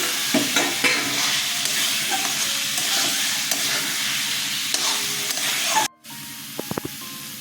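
Potatoes sizzle loudly in hot oil in a pan while being stirred, with steady frying hiss and scraping close by, a sudden brief break near the end, then softer clinks.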